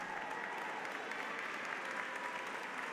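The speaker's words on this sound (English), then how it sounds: "give these wonderful people a big hand." An audience at a conservatory commencement claps in a dense, sustained burst of applause that stays loud and even throughout.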